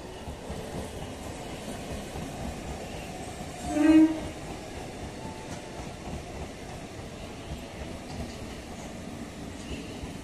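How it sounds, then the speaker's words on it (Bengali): Down Kalyani Simanta–Sealdah local 31322 pulling into platform 2 at Kankinara station on the Kolkata suburban line, a faint, distant low rumble of rolling stock with a brief, slightly louder swell midway. "31322 ডাউন কল্যাণী সীমান্ত Sealdah local Kakinara rail station 2 নম্বর প্ল্যাটফর্মে প্রবেশ করছে"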